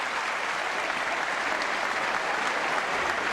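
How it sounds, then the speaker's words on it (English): A large tennis crowd at a Washington tournament match rises in a standing ovation, steady dense applause and cheering filling the whole stretch without pause. "A standing ovation for a brilliant display"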